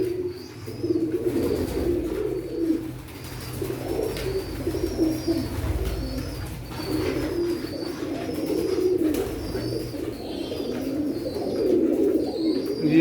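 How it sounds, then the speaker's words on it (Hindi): A flock of pigeons, including Sialkoti, Batera and Shehon breeds, coos continuously at close range, soft rolling calls overlapping throughout, with occasional higher bird chirps in the background. "ये शेहों वाला कबूतर है।"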